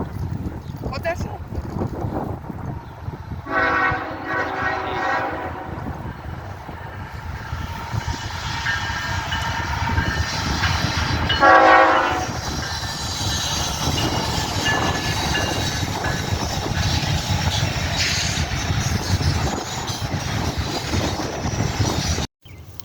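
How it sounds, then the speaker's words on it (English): A Norfolk Southern intermodal freight train rolls past steadily, with constant rumbling and wheel noise, wind across the microphone and brief horn-like tonal bursts standing out partway through. "another Norfolk Southern intermodal with GFOs on the head end."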